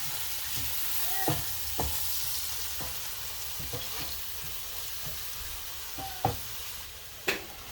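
Bitter gourd fries with onions in a pan, a soft continuous sizzle broken by occasional spatula taps and scrapes, two sharper knocks near the end, with no talking.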